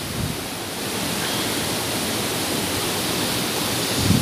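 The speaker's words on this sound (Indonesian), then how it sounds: "Ini Sungai Cibeber." Broadband rushing water of the Cibeber river on the border between southern Sukabumi and southern Cianjur flows steadily and close by, a dense, even roar that holds for the whole stretch with no voices.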